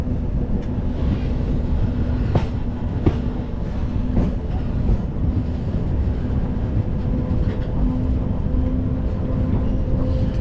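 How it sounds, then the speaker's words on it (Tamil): A train runs along the snowy Srinagar to Banihal railway in Kashmir, with a loud, close, continuous rolling rumble and repeated sharp clickety-clack wheel knocks over about ten seconds. "ட்ரெயின் போகிற பாருங்கள்."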